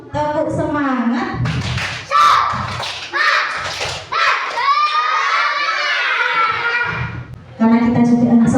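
Schoolchildren in a classroom lesson shout a loud, rhythmic clapping chant together, with sharp claps punctuating their voices. An adult voice speaks briefly at the start and the end.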